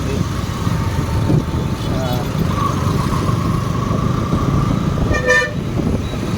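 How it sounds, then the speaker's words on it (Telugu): Busy road traffic on the way to a weekend spot, with a steady engine and wind roar throughout, a long car horn sounding through the middle and a sharper series of honks near the end. "ట్రాఫిక్."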